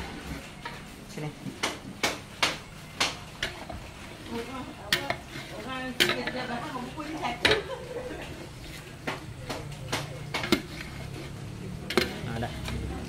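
Fried tofu is stirred in a cooking pot while making mee bandung: a steady sizzle with repeated sharp clinks and scrapes of a utensil against the pot, close, with some background noise.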